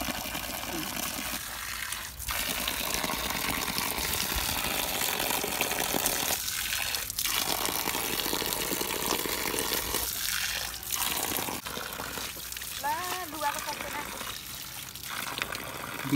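A stream near the Kali Gandaki river in Nepal, a steady murmuring flow of water running continuously while someone talks over it at times.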